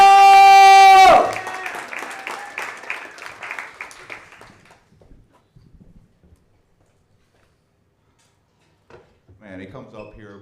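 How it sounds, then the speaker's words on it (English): Audience at a comedy pro-am event claps briefly after a loud tone, a short spell of scattered applause that fades within a few seconds into near silence before faint sounds return. "Get the clapping. Get the clapping"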